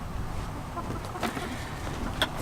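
Backyard hens in a henhouse with nesting boxes give soft, scattered clucks and a few brief calls, faint and close against a low murmur of background noise.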